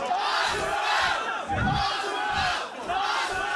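A festival crowd shouts a chant in unison, a dense wall of many voices rising and falling in a few rhythmic surges, loud and close throughout.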